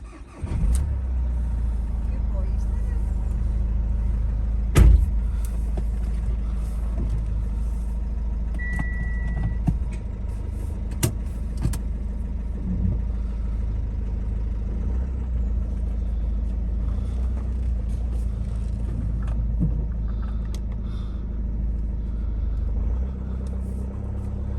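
Citroen C-Crosser car starting up and heading off on a short drive, a steady low engine rumble heard from inside the cabin with occasional clicks and knocks, continuous and moderately loud throughout.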